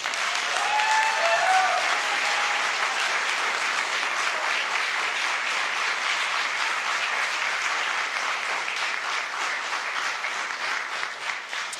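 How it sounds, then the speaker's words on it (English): Applause rises from the public gallery at a council meeting, a steady wash of many hands clapping that holds evenly for several seconds, fairly close and loud, with no speech over it. "it's fine to clap"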